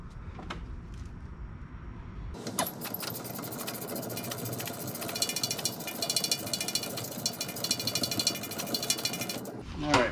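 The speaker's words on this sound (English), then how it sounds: "Let's start with this 13 millimeter to get the pads off." A ratchet wrench turns 13 mm bolts on a rear brake caliper, producing a fast, continuous clicking for several seconds, close and clear, with brief faint sounds before and after.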